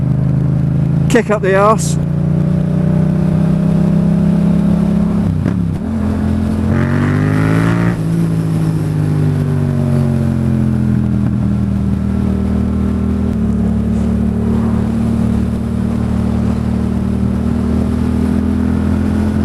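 Motorcycle engine pulling through the mid rev range, a steady loud drone with rising and falling pitch as it accelerates, heard under a rider talking over it throughout.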